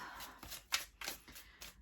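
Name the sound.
shuffling cards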